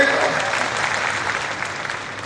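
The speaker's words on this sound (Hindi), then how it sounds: "ताली बजा के स्वागत करो।" An audience claps together to welcome minister Jagdish Devda at a Bharat Ratna Dr. Bhimrao Ambedkar Jayanti celebration. The applause is dense and sustained, holding steady and loud through the whole stretch.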